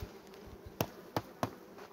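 Honeybees buzz faintly around a capped brood frame lifted from a production hive, a soft hum broken by a few sharp close clicks or taps, with no talking.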